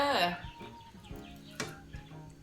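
Chickens clucking, fighting cocks offered for sale at a Thai home where many birds are kept, with short rooster-like calls and clucks repeating over the background chatter of people talking nearby.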